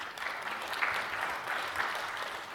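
A conference audience claps in a sustained burst of scattered applause with no speech over it.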